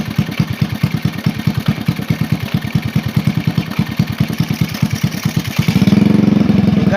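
A Suzuki Supra Fit motorcycle idles close by with a steady, rapid chugging pulse and a faint scraping friction noise from the magneto area, rising into a smoother, louder rev near the end.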